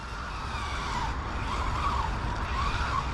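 A Maverick Quantum R RC car spins donuts, its tires skidding and squealing in a steady, close scrub over a buzzing electric motor whine.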